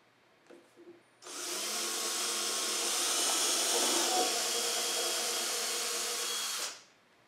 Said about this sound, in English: we're going to pre-drill all the holes before we try to drive the screw in